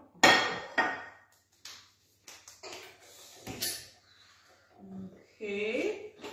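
Clattering clicks and knocks of a flat paddle attachment being fitted onto a stand mixer while baking, a few sharp metallic taps and fumbling bumps, with someone talking briefly in between.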